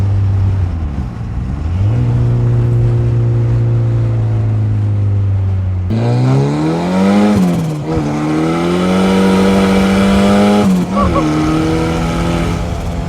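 A car engine fitted with a big turbo drones loud and close, its pitch rising and falling through several revs as the turbo spools up, with a continuous throaty tone throughout.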